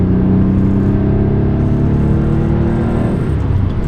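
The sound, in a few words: Porsche 964 Carrera 2 engine pulling in third gear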